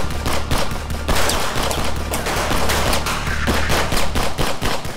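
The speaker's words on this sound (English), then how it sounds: "A hail of bullets sprays across the man's body, some of them splintering wood and plaster from the walls." A loud, sustained volley of rapid gunfire rips through a noir audio drama scene, dense overlapping shots and bursts filling the whole stretch with no speech.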